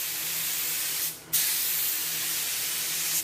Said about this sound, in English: 3 inch overlap, nice even spray pattern.